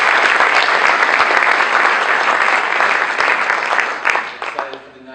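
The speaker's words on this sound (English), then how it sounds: "I'd like to give a round of applause to our first two speakers." Audience applause at an evening talk event for the first two speakers, loud and dense clapping from a full room that holds steady for several seconds before thinning out and fading toward the end.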